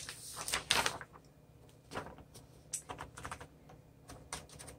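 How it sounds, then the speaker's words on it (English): A 1957 Smith Corona Super Silent manual typewriter is typed on close up, with quick clusters of crisp key strikes and a few pauses between bursts. No voices are heard. "we're going to go into a typing demo for this particular typewriter"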